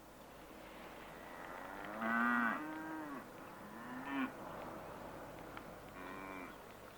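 A cow on a farm lows several times: a long drawn-out moo, then a shorter one and a softer third, over a steady hiss of background noise. No one speaks.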